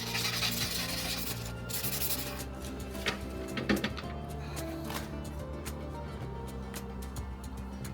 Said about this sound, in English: Surface grinding is going on.